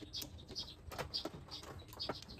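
Faint bird chirps and short calls repeat irregularly at a distance, with soft fluttering and light background noise.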